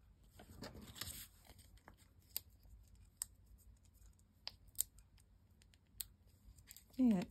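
Scissors trimming paper for a junk journal, a few sharp snips and crisp paper rustles, close and fairly faint, scattered among quiet pauses.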